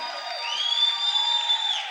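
Church congregation shouting and cheering in praise to God, a sustained wash of high, ringing voices and whoops rising together and holding steady at full volume.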